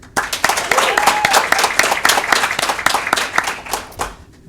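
A graduating class 8 and their audience at a graduation ceremony give a lively round of applause, with sharp, rapid claps from many hands throughout, fading near the end, with some voices mixed in.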